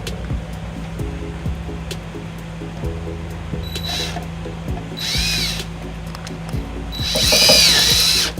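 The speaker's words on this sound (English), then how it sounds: "You can see that you can use a 1/4-inch nut driver or a Phillips screwdriver head." Power driver running a tech screw into the lower frame of a 2008 Ford Escape, short whirring bursts and ratcheting spins over a steady low hum, ending in a louder, longer burst up close.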